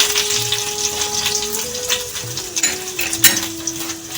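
A bay leaf sizzling in hot oil as a tempering for cauliflower curry, a moderate crackle with sharp spatter pops and light utensil clinks over a faint background tone.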